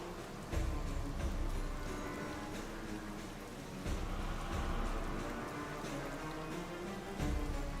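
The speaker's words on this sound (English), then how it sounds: "It would start raining, bro." Rain falls steadily in Zelda: Tears of the Kingdom, a soft continuous hiss of drops with occasional louder swells, quiet and alone.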